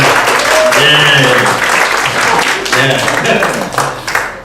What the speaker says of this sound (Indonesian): tepuk tangan buat Kak Hana